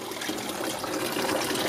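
Pressurized water spraying from the nozzles of a solar-powered DC evaporative swamp cooler, a steady close hiss and patter of droplets with no voices.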